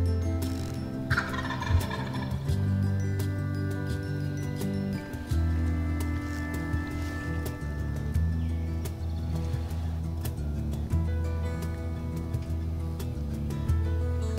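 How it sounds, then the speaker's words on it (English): An old wild turkey gobbler gobbles repeatedly in the woods during a hunt, loud, rattling calls rising above a steady low hum. "the old gobbler was bobbing his head behind some trees there, getting pretty close"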